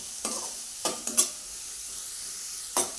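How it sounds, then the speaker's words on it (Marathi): Onion sizzles softly in a pan of hot oil, with three or four brief stirring scrapes breaking through the quiet fry. "1-2 ते 3 मिनिटं कांदा आपण चांगला तांबूस रंगावर परतून घ्यायचा आहे"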